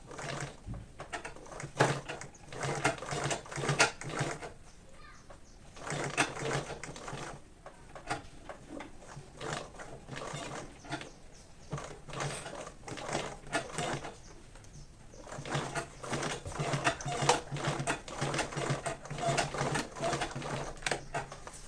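A sewing machine top stitches a fabric school bag, running in rapid rattling bursts with short pauses between runs, close and steady throughout.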